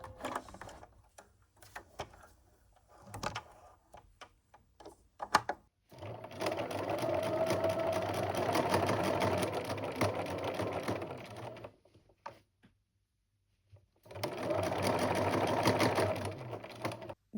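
A home sewing machine stitches the side seams of a summer dress, starting with short bursts, then running in two long steady stretches of rapid mechanical whirring separated by a brief pause, close and alone.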